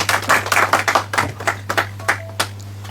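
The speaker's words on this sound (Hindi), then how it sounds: "एक बार जोरदार ताली हो जाए तनिष्क के लिए भी।" A studio audience on a junior quiz-contest show claps for a contestant, about a dozen sharp, uneven claps that thin out and stop, close and clear over a steady low hum.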